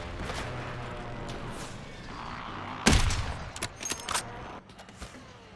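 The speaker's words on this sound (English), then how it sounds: "Oh, he's firing at us." Gunfire erupts in a multiplayer video game match, a steady background of distant shots broken by a loud, close crack and then a ragged burst of rapid shots that trails off.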